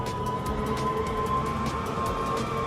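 Car engine in the racing video game Inertial Drift, a steady loud drone with a strong tonal whine held throughout, continuous and close with no talk over it.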